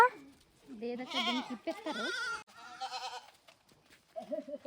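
Goats bleat repeatedly, loud and close, with wavering cries in quick succession and a short pause before another call.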